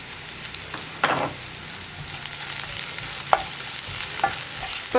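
Green chilies frying in hot oil in a pan, a continuous close sizzle broken by several distinct scraping stirs of a spoon against the pan.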